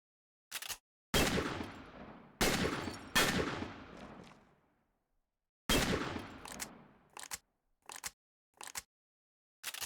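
Gunfire in a PS2 video game cracks out in sharp, loud shots, some ringing off into decaying echoes, others short and isolated, with pauses of silence between.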